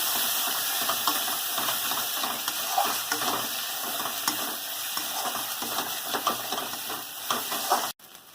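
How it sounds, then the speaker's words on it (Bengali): Spiced masala with ground coriander, ginger paste and onion frying hard in a pan for a green jackfruit curry, a steady loud sizzle with constant scraping stirs and hiss, cutting off abruptly near the end. "ভালো করে কষিয়ে নেব মশলাটাকে"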